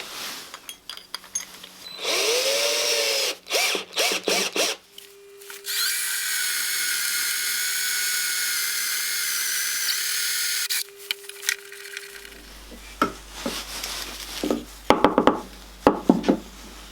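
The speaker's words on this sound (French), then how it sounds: "Concernant le trou central, je vais utiliser un forêt de 18." Cordless drill-driver boring an 18 mm hole through a piece of wood: short revving bursts, then a long steady whine as the bit cuts through, followed by clattering knocks and handling of the workpiece.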